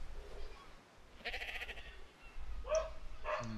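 Sheep in a video game bleat a few times, short wavering calls over a steady low hum of game background noise, one bleat in the middle and a couple more toward the end.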